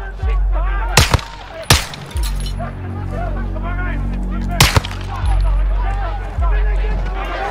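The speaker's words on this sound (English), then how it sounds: "Watcher one, we're taking fire." Gunfire in a Call of Duty video game, several sharp loud shots cracking out in short bursts amid ongoing combat noise, with radio-style voices talking throughout.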